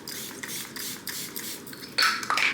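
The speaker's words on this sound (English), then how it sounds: "Now I'm gonna give her a quick spray with my MCO Flawless Setting Spray." MCO Flawless Setting Spray hisses in short bursts from a pump bottle onto a face, several quick close sprays with a louder final pair.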